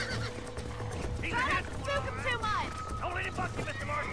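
A horse whinnies and neighs in the Western game Red Dead Redemption, heard briefly up close while someone talks over the scene with a low engine-like rumble underneath.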